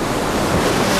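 Ocean waves and surf rolling in at a beach where surfers ride, a steady broad wash of breaking water with wind buffeting the microphone throughout the short stretch.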